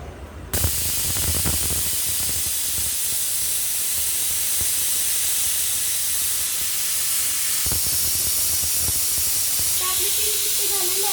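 Steady loud hiss of steam escaping from a pressure cooker as vegetables cook on a gas stove, a continuous broadband rush running nearly unbroken with a few faint clicks and knocks.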